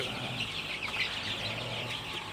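Young Sonali super hybrid chicks chirping and clucking together in a brooder, a constant dense chorus of thin high calls with a low background hum.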